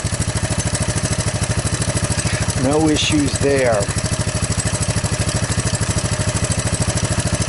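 A small engine idles with a steady, even putter throughout, while someone speaks briefly over it; a Honda ATC200ES three-wheeler running with hacked-together wiring.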